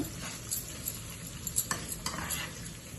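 Ponganalu batter ingredients, fried onion among them, are stirred in a pan, a steady soft sizzle with scraping and clinking of a spoon against the metal, a few sharper strokes around the middle, no voices.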